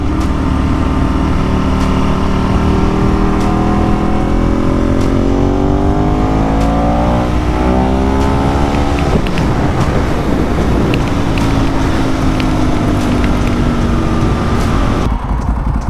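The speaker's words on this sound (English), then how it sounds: "Can you hear me over this traffic that's passing by me?" Steady roar of vehicles driving past close by, engines rising and falling over constant wind noise on a GoPro 11 microphone worn by a rider on a Ducati 1098 motorcycle.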